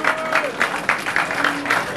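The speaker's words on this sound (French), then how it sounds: "S'il vous plaît, applaudissez pour Escobar." An audience at a Rap Contenders Edition 7 rap battle claps for Escobar, a crowd's applause swelling in rhythmic bursts about three times a second, fairly close and unbroken.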